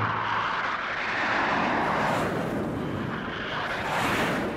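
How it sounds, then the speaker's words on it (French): Dassault Mystère IVB jet aircraft taking off for a demonstration flight, a loud, continuous broadband roar that swells and surges steadily throughout, with no voices. "il décolle avec le Mystère 4B pour une présentation devant les autorités françaises"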